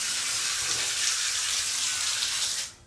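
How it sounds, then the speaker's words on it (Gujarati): Tap water runs steadily for hand washing, a loud continuous splashing hiss close by that cuts off abruptly near the end. "હાથ ધોવાનું ચાલુ થઈ ગયું પાણી"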